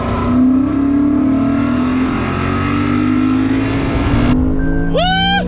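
A 2020 Lexus GS F engine revs hard while driving, a loud, sustained rising engine roar close by, with a sharp shift near the end as the pitch drops and climbs again.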